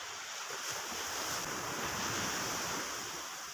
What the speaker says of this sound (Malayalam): നല്ല തിരയാണ് കേട്ടോ. നല്ല ഫോഴ്സിലാണ് തിര വരുന്നത്.